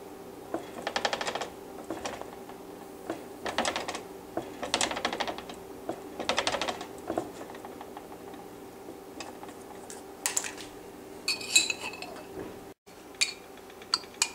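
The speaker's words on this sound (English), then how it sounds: "After pressing, make a hole with this fork." A fork pricks holes in pressed pizza dough for a vegetable bite pizza, giving clusters of soft, quick ticking taps in short bursts, close and fairly quiet.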